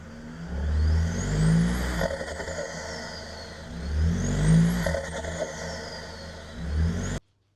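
A 2025 Isuzu D-Max with a King Fab stainless snorkel fitted revs three times, each burst rising and falling in a steady cycle, close and loud with no talking.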